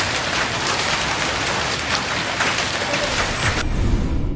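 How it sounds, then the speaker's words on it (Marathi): Steady, heavy rain pours down at Bhimashankar in a dense, continuous hiss with scattered droplet patter throughout, loud and close. "भीमाशंकरामध्ये पाऊस चालू झालेला आहे"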